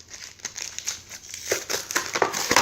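Plastic Pokémon TCG blister pack being cut open, crinkly snips and crackling plastic in irregular bursts, close and fairly quiet with no speech.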